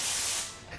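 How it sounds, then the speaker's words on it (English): A loud, steady hiss of compressed air spray in a shop in Japan, close and continuous, tapering slightly toward the end. "Are they just always doing the air spray thing, or is it just when I'm here?"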